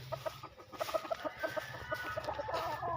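Chickens in a small backyard gamefowl pen cluck in quick, uneven bursts, moderately close against a steady outdoor background hum, with no talking.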